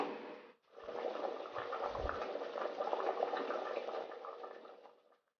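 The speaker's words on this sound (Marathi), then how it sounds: "रशाला उकळी येते" A pot of spicy country chicken curry comes to a boil, giving a soft, even bubbling and hissing that runs steadily for a few seconds before fading out.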